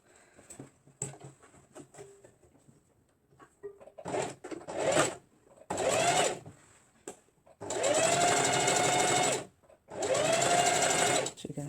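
A sewing machine stitches short pants in several bursts, a quick close whirring rattle that starts and stops between quiet pauses, with the longest runs near the end.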